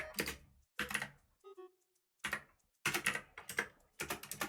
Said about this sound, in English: Sorry, I'm very slow typer.